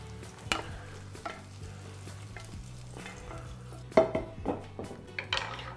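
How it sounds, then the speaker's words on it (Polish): Browned kiełbasa sausage tipped from a pan into a pot of bean soup, with metallic scraping and knocks of a utensil against the pan, a low steady hum underneath, and brief clatters near the end. "I zrumienioną kiełbasę przesypuję do zupy."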